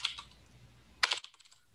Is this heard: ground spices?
no